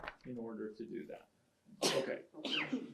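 Two sharp, explosive bursts, sneezes or coughs, close to the microphone right after brief talk in a quiet meeting room.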